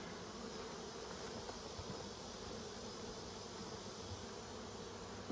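Honey bees buzz faintly and steadily around hive boxes outdoors, a soft continuous drone with no voices.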